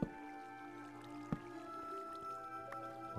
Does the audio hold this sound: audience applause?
no